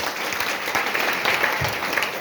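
Loud audience applause at a chief-guest event, a steady dense wash of many hands clapping for a couple of seconds with no talking over it.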